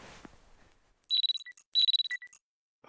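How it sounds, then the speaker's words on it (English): A bright, chiming phone alarm in the horror video game Parasocial rings in quick repeated bursts of high electronic tones, loud and alone after a quiet start. "That's my alarm."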